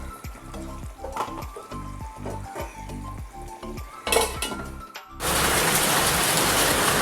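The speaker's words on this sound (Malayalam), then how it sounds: "നല്ല മഴ പെയ്യുന്നുണ്ട്." Heavy rain suddenly fills the air as a steady, loud hiss, following the bubbling and stirring of a chicken curry cooking on a low flame in a home kitchen.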